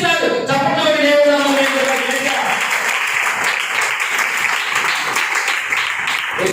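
A church congregation bursts into loud, sustained clapping during a Telugu sermon. A voice is briefly heard at the start before the dense applause fills the rest of the moment.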